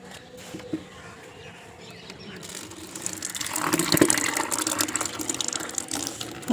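Water is poured or sprayed over potted garden plants at home, starting as a faint trickle and swelling into a steady, moderately loud gushing splash, with a few birds chirping in the background.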